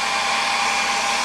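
A hair dryer used on a Mosin rifle's stock during cleaning blows steadily, a loud, even broadband whoosh with a low motor hum underneath, running continuously without pause.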